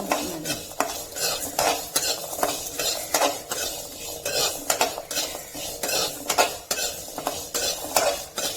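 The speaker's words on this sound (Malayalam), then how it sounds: "കുറച്ച് നേരം ഇങ്ങനെ വറുക്കണം." Small onions and spices fry in a pan for a Kollam-style fish curry, the steady sizzle broken by frequent close metallic clinks and scrapes of a spoon stirring against the pan, with no voices.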